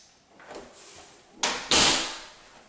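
A water closet door in the master bathroom of a newly built townhome opens and shuts, with soft handling noise followed by two sharp knocks near the end, close and fairly loud.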